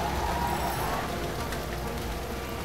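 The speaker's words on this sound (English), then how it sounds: "And we got some monsoon rain." Monsoon rain falling in Bangladesh, a dense steady hiss of drops on surfaces, continuous and fairly loud throughout the short stretch.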